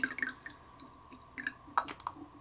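Water dribbling and dripping as a fountain pen's feed and nib get rinsed, soft close wet splashes and small irregular drops over a couple of seconds, no talk.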